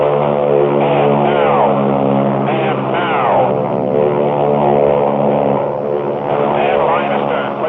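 Harvard propeller trainer aircraft droning steadily overhead, its engine note rising and falling as it passes, loud and continuous throughout with harmonic whine.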